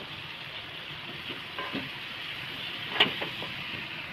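Dried chevna fish cooks in a pan on a gas stove, giving off a quiet, steady sizzle with a few soft pops and clicks scattered throughout. No one speaks.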